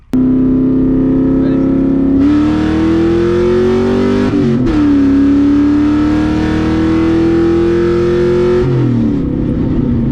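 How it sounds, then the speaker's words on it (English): A cammed Mustang GT accelerates hard on a 150-shot of nitrous, its loud, close engine note climbing steadily in pitch. It drops briefly at each of several upshifts before pulling up again. "So now we're gonna move on to my car, see what it does on a 150 shot."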